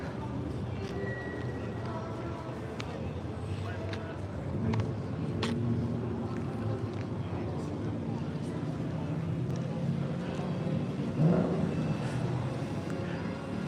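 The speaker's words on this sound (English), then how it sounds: "Primarily it's just going to be cars driving by the camera with no additional audio or music added, so you can just listen to the cars and watch them go by." Classic cars pass a roadside spot at an outdoor car show in Anoka, Minnesota, a 1956 Ford among them, with continuous engine rumble and tyre noise and occasional louder drive-bys amid crowd chatter.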